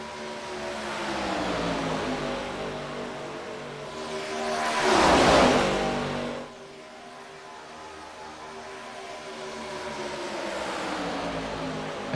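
ARCA Series stock cars racing at Daytona, engines droning steadily with a loud pass-by swell around the middle as the pack roars past, then a continuing lower hum of cars in the distance.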